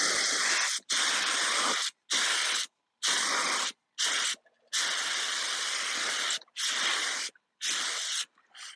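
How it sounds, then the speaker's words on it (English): Spray gun sputtering out ceramic glaze in repeated loud hissing bursts, each about half a second to a second and a half long, with short silent gaps between them. "I understand there's a lot of spray waste on this, but the other gun I have broke, and this one's overkill"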